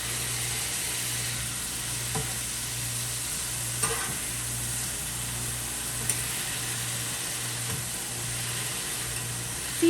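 A smash burger patty sizzles steadily on a hot griddle while being pressed flat, with a constant close frying hiss, a low background hum and a few sharp spatula scrapes scattered through.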